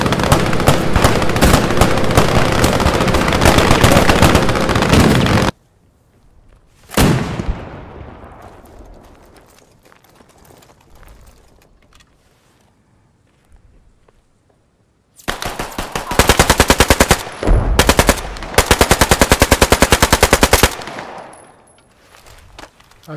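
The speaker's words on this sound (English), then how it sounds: "go ahead and fire your weapon" Video game weapons fire in rapid, loud automatic bursts in a squad-based military shooter, broken by a single heavy blast that fades into quiet before another long sustained burst of automatic fire.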